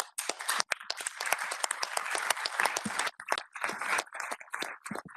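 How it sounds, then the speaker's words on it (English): An audience at a panel discussion applauds with close, distinct individual claps forming an uneven burst that continues for about five seconds. "this really deserves one applause immediately in the beginning."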